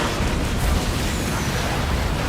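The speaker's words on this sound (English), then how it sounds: "Rockets away!" Rockets fired during a naval battle in Skull and Bones: a dense, loud, continuous roar of blasts and rumbling booms with no clear gaps, close and heavy throughout.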